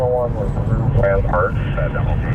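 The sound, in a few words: news and police helicopters flying overhead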